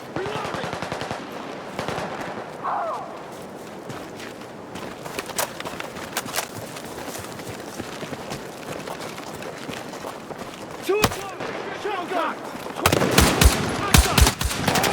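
Rapid automatic gunfire rattles in Battlefield 6 during a military mission. Dense bursts run throughout and grow louder and heavier near the end, with voices faintly underneath.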